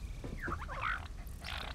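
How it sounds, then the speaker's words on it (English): A doggo creature in the Satisfactory video game lets out a short run of squeaky, warbling barks and yelps, fairly faint over a low rumbling background. "What are you barking at, man?"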